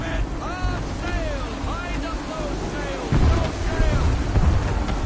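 Heavy wind gusts roar over the open sea around a colonial flagship in Assassin's Creed 3, a constant blustery rush with water churning, while voices speak over it and the gusts surge louder midway.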